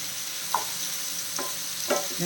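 Onion chicken frying in a little oil with Kashmiri chilli powder, a steady sizzle broken by a few soft scraping turns of the pieces, close and alone.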